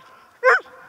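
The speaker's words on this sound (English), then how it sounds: "You keep barking at me, mister." A single short dog bark or yelp, fairly close, inside a heated tent while winter camping, standing out over a low steady background hum.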